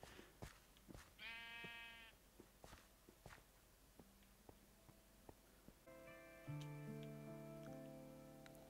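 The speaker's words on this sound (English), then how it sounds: "that sheep scared me." A sheep in the Minecraft video game gives one clear, loud bleat amid rhythmic game footsteps and clicks, followed by sustained tonal game sounds.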